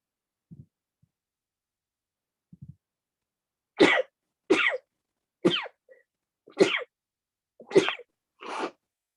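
Six sharp sneezes in a quiet courtroom setting, evenly spaced and fairly close, preceded by a couple of faint soft sounds, with no talk.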